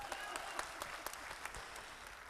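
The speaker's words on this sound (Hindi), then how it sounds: "एक बार ताली बजाओ साहब सर।" Audience clapping at a live love-poetry recital by poet Ramesh Vishvahar, a steady patter of many hands with sharper individual claps, fairly quiet and distant, with faint voices mixed in.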